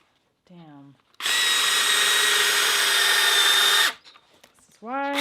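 A handheld power drill whines at a steady high pitch for under three seconds, loud and close, with brief voices talking before and after the run.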